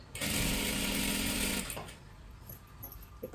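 A sewing machine stitching a salwar runs in one fast, loud burst of rapid needle chatter for about a second and a half, then stops, leaving quiet handling of the cloth.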